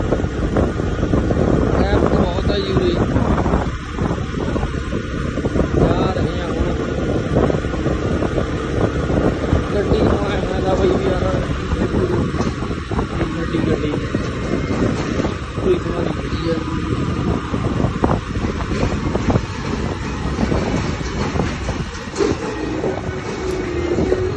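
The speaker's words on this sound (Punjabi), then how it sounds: "ਦੇਖੋ ਬਈ ਜਾ ਰਹੇ ਹਾਂ ਮੋਟਰਸਾਈਕਲ ਤੇ" Steady roaring wind buffets the microphone on a moving motorcycle, with a low rumbling engine and road drone underneath, loud and unbroken throughout the ride.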